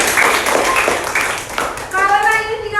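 A burst of hand clapping from a sixth-grade primary school class, brief and lively, with children's voices chattering over it.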